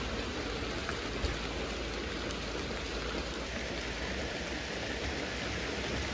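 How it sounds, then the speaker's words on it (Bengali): Heavy rain pours down in a dense, unbroken hiss of drops striking surfaces, holding steady from start to finish with no voices. "আরো জোরে বৃষ্টি নেমে যাচ্ছে।"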